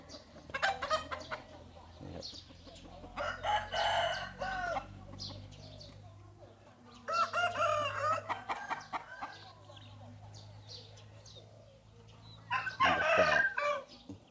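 Roosters crow repeatedly at fighting-cock pens, several long cock-a-doodle-doo calls rising at intervals with clucking between, fairly close and clear over a quiet farmyard background.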